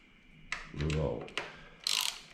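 Allen key tightening handlebar riser bolts on a Harley-Davidson Pan America Special, a few close metallic clicks and ratcheting scrapes with a brief grinding turn, spaced irregularly and heard alone.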